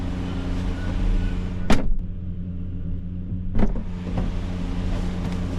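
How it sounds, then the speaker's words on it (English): A loud extraction fan roars steadily, heard close up inside a courier's van, with a low rumbling hum and a couple of brief sharp thumps and clunks over the continuous drone. "Oh, that extraction fan's loud."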